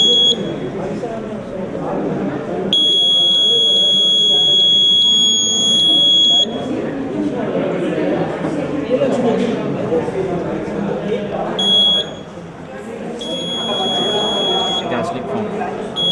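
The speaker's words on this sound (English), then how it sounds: "Gas sensor. Buzzer." Gas leak sensor alarm on an engineering college project demonstration: a shrill, steady electronic buzzer tone sounds in long stretches, stops, then starts again, while people talk loudly throughout.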